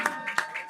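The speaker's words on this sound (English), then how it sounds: "little round of applause" A few hand claps on a live podcast set, about four separate sharp claps in quick succession, close and sparse rather than a full crowd.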